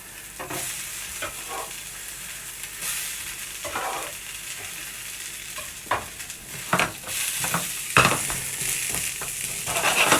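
Onions and vegetables fry in a pan for a beef sausage casserole, a hissing sizzle punctuated by irregular scrapes and knocks of a spoon stirring against the pan, heard up close with no speech.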